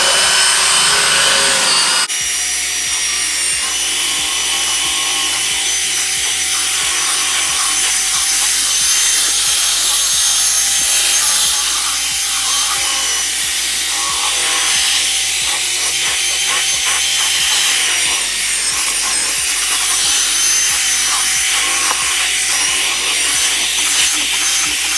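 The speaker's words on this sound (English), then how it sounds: "take your spin, your drill brush, and just thoroughly clean these seats" Drill-mounted spin brush scrubbing fabric car seats treated with tea tree oil, a steady continuous whirring and rubbing that runs loud and close for the whole stretch, with no talk.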